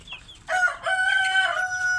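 A rooster crows nearby, with a few chicken clucks just before it.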